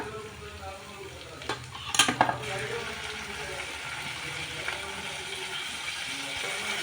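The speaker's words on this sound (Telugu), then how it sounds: "వీటిని కూడా బాగా కలుపుకుందాం." A spoon scrapes and stirs through onions and tomatoes with masala oats in a pan, a cluster of clattering metal knocks midway over a faint sizzle, then quieter stirring.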